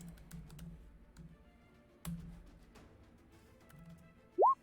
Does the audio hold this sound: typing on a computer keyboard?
yes